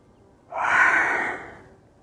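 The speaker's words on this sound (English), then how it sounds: "So I instantly yawn" A single close, breathy yawn swells up and slowly fades over about a second and a half, with no talk around it.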